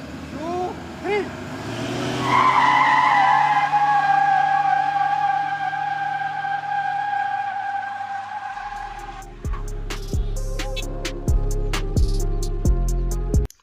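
A Toyota Fortuner and a Mahindra Thar in a 4x4 tug of war, engines straining loudly with a long tonal tire skid, then heavy rumbling and rhythmic thumps as the tires scrabble.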